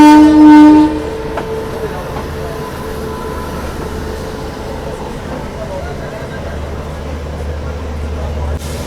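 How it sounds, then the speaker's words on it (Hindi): A Nangal Dam to Kolkata superfast express, also called Gurumukhi Express, approaching past Ambala Cantt station: a loud horn blast at the start, then a continuous heavy rumble and rolling clatter of the train, with a voice speaking over it. "सामने से देखो ये आ रही है नांगल डैम से कोलकाता जाने वाली सुपरफास्ट"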